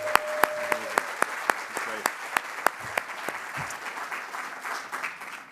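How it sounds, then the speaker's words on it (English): Applause at a grand opening for new city housing: a handful of sharp, close, evenly spaced claps stand out over a thinner spread of clapping from a small outdoor crowd, tapering off as murmurs come in. "let's give another round of applause for Juan"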